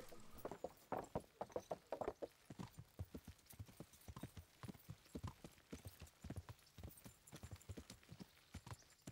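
Horse hooves clip-clopping in the medieval game Kingdom Come: Deliverance, a steady run of close, distinct hoof strikes on the ground, lasting throughout with no talking.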